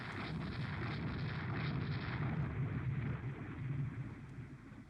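A torpedo strikes a warship in the naval strategy game Rule the Waves II, producing a sustained low rumbling explosion with a steady broadband roar that swells slightly and then fades, heard alone with no talk.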